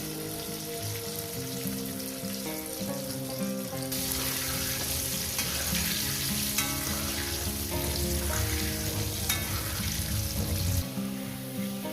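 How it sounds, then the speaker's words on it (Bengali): Potatoes frying in a pan for chicken curry, a loud continuous close sizzle that swells midway and holds for several seconds, with occasional stirring and faint watery sounds, no talk. "আলুগুলো দিয়ে দিলাম এবার সুন্দর করে রান্না করে ভেজে নেব"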